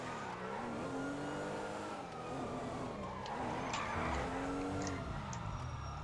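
A car in GTA V braking and skidding, with a steady engine drone and tyre squeal running throughout and a police siren wailing near the middle.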